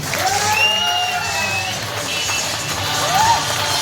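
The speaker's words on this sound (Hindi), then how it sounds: "दिल से ताली बजा दीजिए" Applause from a crowd at a Jharkhand political gathering, a steady wash of clapping under loud ambient noise and faint tonal sounds, continuing evenly throughout.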